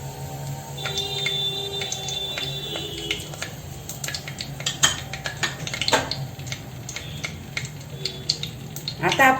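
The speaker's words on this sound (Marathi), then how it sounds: "आता आपलं तेल चांगलं तापलंय, तर आपण आता तेजपत्त्याची ही 4 पानं आहेत ना, ती पहिले टाकून घेऊया" Four bay leaves dropped into hot oil while cooking Malvani chicken give a soft, steady crackling sizzle, with utensil clinks and a person talking over it.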